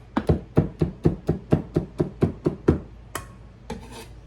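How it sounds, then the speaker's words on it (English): Vegetables being finely diced with a knife on a cutting board: about a dozen steady, evenly spaced chops up close, then a pause and a couple of softer knocks, with no talking. "I am dicing these finely"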